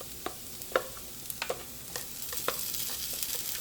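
Softened onions and precooked sausage fry in a pan, giving a quiet sizzle broken by sharp clicks and scrapes of stirring, with no voices.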